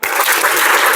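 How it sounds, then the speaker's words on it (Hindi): A crowd of schoolchildren claps together at a school program, a loud, dense burst of applause filling one second at close range. "ताली बजाओ, ताली बजाओ"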